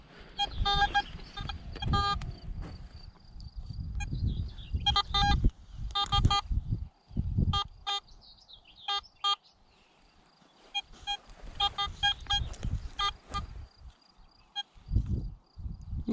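Vista X metal detector with a 14-inch coil swept over a ploughed field strewn with rubbish, giving rapid bursts of high electronic beeps and tones in irregular clusters, with low rustling and ground scraping underneath and brief quiet gaps.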